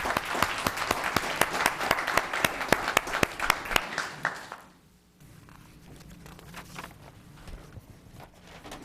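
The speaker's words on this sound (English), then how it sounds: "Please give one more round of applause for Rebecca." At a town council meeting in Los Gatos, the audience gives a dense round of applause with crisp individual claps. It holds strong for about four seconds, then fades out, leaving quiet room noise with scattered claps and shuffling.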